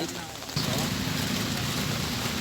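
Heavy rain pours down at night in Pangkalan Sulampi, Suro, Aceh Singkil, a steady broadband hiss that grows louder after the first half-second and keeps up without a break.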